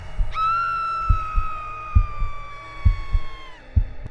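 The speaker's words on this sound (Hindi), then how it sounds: "सिया का दिल जोर जोर से धड़कने लगा" A heartbeat sound effect from a haunted hotel horror story, with deep thumps pulsing at a steady rhythm roughly once a second beneath a sustained eerie whistling tone.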